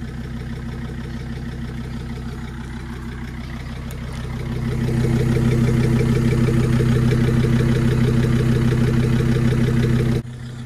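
A Jeep Grand Cherokee 2.7 with a straight-through exhaust idles close and loud, a steady deep burbling rumble that thickens and grows louder midway before cutting off abruptly near the end.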